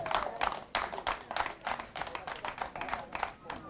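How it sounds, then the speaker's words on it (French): An audience claps at a Climbié Beach 2019 gathering, dense overlapping applause at moderate volume lasting a few seconds. "Vous avez besoin de vous applaudir vous-même"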